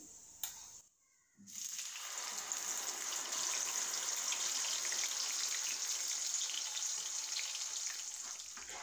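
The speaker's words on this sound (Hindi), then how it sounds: "हमने जो मसाले लिए थे और जो पिसे थे उसे हम फ्राई करेंगे" Ground spices and cumin frying in leftover oil for a paneer curry: after a brief gap, a loud, steady sizzle rises and holds as a bright, continuous hiss.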